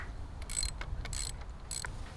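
A ratchet wrench with a deep socket turns on an outboard engine, giving three short bursts of quick clicking close by over a low background hum.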